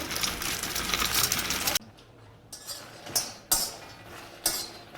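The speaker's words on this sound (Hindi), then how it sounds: "तो सबसे पहले तो कढ़ाई निकाल लेते हैं, रख दे।" A kadhai (wok) is taken out and set down in a home kitchen. A steady hiss gives way to several sharp metallic clanks and clatters at uneven intervals, close by.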